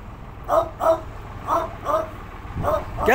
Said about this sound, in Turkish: Kocaman bir kangal köpeği var.